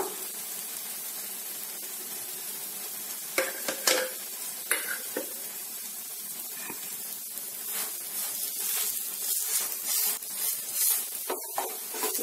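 A tomato omelette sizzles in a pan with fresh oil, giving a steady close frying hiss broken by several sharp clinks and scrapes of a spatula against the pan, with no speech.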